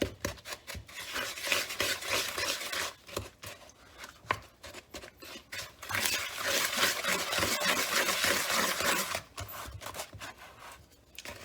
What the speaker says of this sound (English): we're going to go ahead and give this a stir